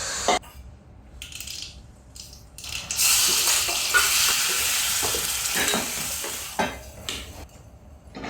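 Spice tempering sizzles and crackles in a hot pan, a bright spitting hiss that swells after a quieter start, with some clatter of stirring and running water nearby.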